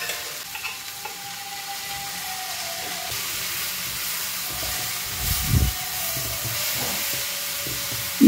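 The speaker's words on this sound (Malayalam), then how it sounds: "ഇതാ കായും പയറും വെന്തത് അതിലേക്കിട്ടു. നന്നായിട്ട് ഇളക്കാം." Pumpkin and bean erissery is stirred in a hot pan, with a continuous low sizzle, occasional spoon scrapes and a dull knock near the end.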